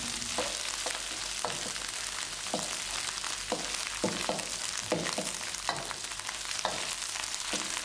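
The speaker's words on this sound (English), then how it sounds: "Sautéing curry pastes and herbs together like this is the best way to bring out the aromatic flavor." Shallots and lemongrass sauté with curry paste in a pan, a steady close sizzle and crackle broken by repeated stirring scrapes at an irregular rhythm, with no talking.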